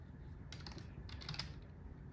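Quiet keystrokes on a computer keyboard as a note is typed into a telemedicine app, a short cluster of soft clicks against a low, steady background hum.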